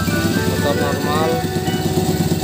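A Honda Astrea C70 motorcycle engine runs at idle close by, a steady throbbing putter under a voice.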